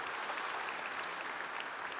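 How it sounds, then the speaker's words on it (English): Sustained audience applause at a business luncheon address, a dense, even wash of many hands clapping with no gaps, fairly distant and steady throughout. "just a round of applause for taking all those ones on the chin"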